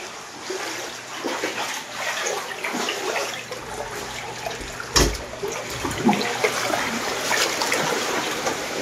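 Water leaking indoors during Typhoon Uwan splashes and runs in a continuous rushing spatter, close by, with a few sharper splashes along the way.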